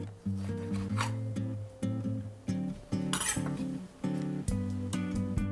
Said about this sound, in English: let's cut this into little pieces